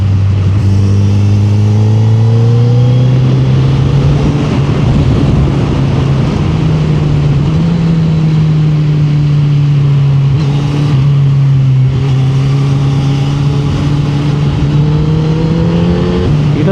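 A 2019 second-generation Suzuki Hayabusa motorcycle engine pulls hard through the gears in a long, steady, loud drone, pitch rising and dipping with shifts under constant wind roar, close and continuous with no talking.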